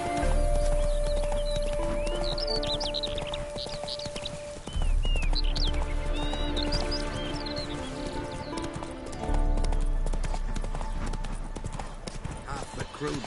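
Horse hooves clip-clop at a gallop in The Witcher 3, a steady rhythmic beat running throughout beneath game music, birdsong and occasional voices.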